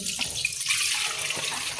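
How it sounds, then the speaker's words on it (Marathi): Crab curry liquid pours and trickles steadily through a sieve into a pot, leaving crab shells behind, a close, continuous splashing hiss. "तो आता गाळून घ्यायचा असा एका पातेल्यात पुरणाच्या चाळणीवर"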